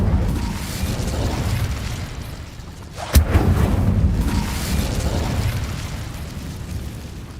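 A sudden booming blast from the Incendio fire spell in the Hogwarts Legacy video game breaks through a dense rumbling game soundscape, followed by a brief crackling tail.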